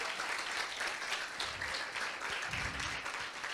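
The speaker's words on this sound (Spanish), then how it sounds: "Quiero un aplauso para los jóvenes que han venido" Applause from the audience at a Spanish-language informational talk on suicide, steady dense clapping sustained throughout, moderately loud and filling the room.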